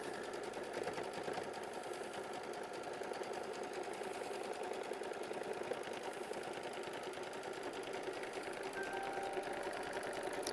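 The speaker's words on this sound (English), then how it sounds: "we're going to stitch out machine stitch step 38 together" A sewing machine stitching down a quilt block, running steadily with a fast, even mechanical whir and needle rattle, moderately loud and uninterrupted throughout.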